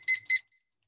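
A kitchen-style timer set for 30 seconds beeps in two quick electronic bursts, fairly close, then falls silent.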